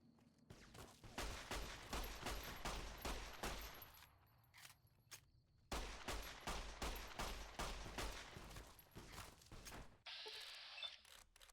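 Rapid gunfire from Fallout New Vegas sounds in dense, sustained bursts, breaking off briefly for a few isolated shots before resuming, with a short whirring tail at the end.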